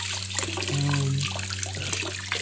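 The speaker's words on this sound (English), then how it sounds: "Now I will give it a good rinse." Water rinsing through a freshly cleaned trumpet's tubing, a steady close trickle and splash with a brief gurgling tone in the middle, alone without talk.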